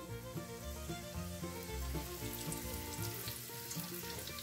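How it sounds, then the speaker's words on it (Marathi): Cumin seeds and curry leaves sizzle in hot oil in a kadhai, a faint, steady frying crackle heard under a tonal background hum throughout. "जिरे छान तळले गेले, त्यात कढीपत्ता टाकू।"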